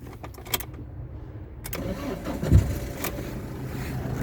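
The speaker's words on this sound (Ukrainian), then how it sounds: "Моторчик заводиться з півтичка." A car engine cranks and catches nearby, then runs on at a steady rumbling idle, with a few small clicks before it starts.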